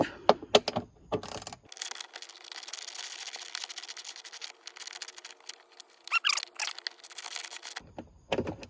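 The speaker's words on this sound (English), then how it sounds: "In here we have an 8mm bolt that we're going to remove." Clicking tool sounds while an 8mm bolt is removed inside a 2021 Range Rover L405, with sharp close clicks at the start and end around a steadier quiet stretch in the middle.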